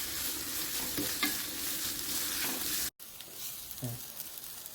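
Sliced onions and curry leaves sizzle steadily in a hot pan while being stirred, frying at close range for chicken thoran, with a brief break before the crackle resumes.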